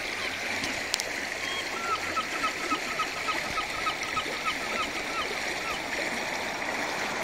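Ducks on a pond give a string of quacks and calls, some distant, over steady splashing water and outdoor background noise.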